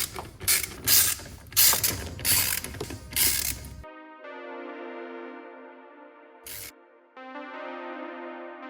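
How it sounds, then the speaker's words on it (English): A hand ratchet with a 7mm socket loosens a hose clamp near the throttle body of a 987.1 Porsche Boxster, giving bursts of close clicking ratchet strokes, then quieter tonal creaks and a short click. "we want to start by taking our 7mm socket and loosening this clamp"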